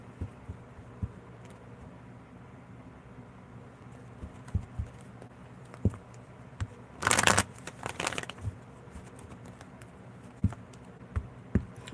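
A tarot deck being shuffled and cut: faint scattered taps and card handling in a quiet room, then a brief loud riffle of cards near the middle of the clip, followed by more soft taps.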